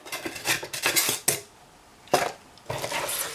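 A Scentsy wax warmer dish clinks and clatters as it is set down, with several sharp, close ceramic knocks separated by brief quiet gaps.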